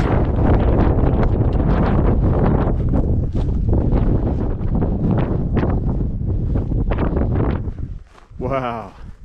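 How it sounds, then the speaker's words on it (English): Strong wind buffets a microphone high on a mountain during the Rawah traverse, a loud continuous roar with gusts, while someone talks over it; the blast briefly eases near the end. "That wind is trying to take it."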